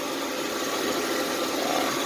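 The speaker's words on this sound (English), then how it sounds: "Engine's running." A 2003 Honda Accord V6 idles steadily, a smooth continuous engine hum heard up close with no voices.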